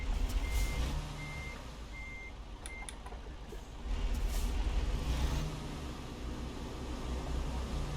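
A truck in American Truck Simulator sounds its reversing alarm, a steady series of evenly spaced high beeps over a low engine rumble, moderately loud and with no talking.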